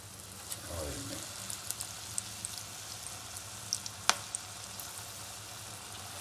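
Battered chillies for pakoras sizzle steadily in hot oil, a soft continuous fry crackle broken by sharp pops and spits, with one louder crack near the end.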